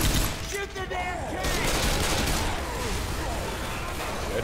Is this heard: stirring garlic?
no